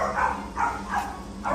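A glossy black puppy from a litter of five-black Chinese native dogs gives a few short, close whimpering whines in quick succession, each a brief high-pitched cry.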